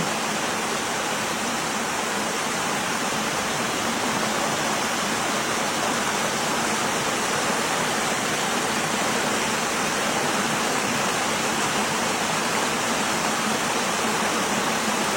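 Water pours steadily out of an opened dam where fish are being washed down, a loud, dense and unbroken roar of rushing water that fills the whole stretch with no voices heard.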